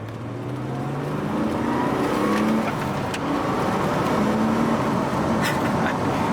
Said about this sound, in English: Alright, so we're getting another drive in the M3.